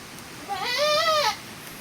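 A single drawn-out bleat from a goat giving birth, strained and wavering, rising out of quiet background noise and fading after about a second.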